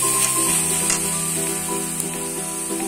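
Grated coconut and sugar fry in a pan while being stirred, giving a steady close sizzle with soft scraping strokes throughout, no talk.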